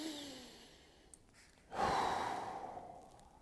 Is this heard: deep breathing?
yes